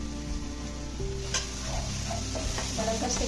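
Whole spices and spice powders (green chilli paste, garam masala, coriander, cumin, turmeric) roasting in hot oil for moong dal kachori filling, a steady close sizzle with stirring scrapes throughout, over faint tonal background sound.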